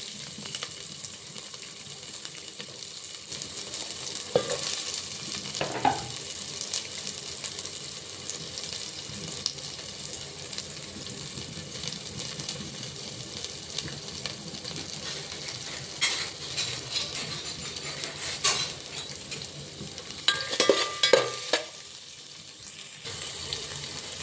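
Green chillies and onions fry in a pan for bagara rice, giving a soft steady sizzle with occasional stirring scrapes and clinks, fairly close and with no talking.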